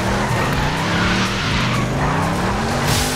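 An Audi skidding in the racing game Forza Horizon 5, with a loud revving engine and squealing tires that slide in sweeping pitch, close and continuous, no talk.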